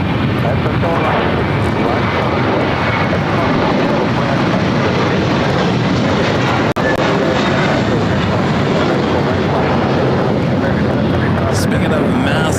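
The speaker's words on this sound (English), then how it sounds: "Asiana Flight 202, this A380 coming in from Seoul" Asiana Airbus A380 arriving from Seoul on final approach at LAX, a loud steady roar of jet engines filling the whole stretch, with a radio voice talking over it.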